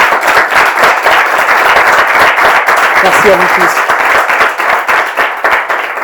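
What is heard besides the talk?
audience applauding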